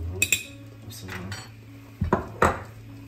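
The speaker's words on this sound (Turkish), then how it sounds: "Rengi değişene kadar böyle kahverengi olana kadar karıştırıyoruz." A spoon clinks and scrapes against a pan while corn flour is stirred in hot oil, with a few sharp metallic knocks spaced through the quiet stretch and no talking.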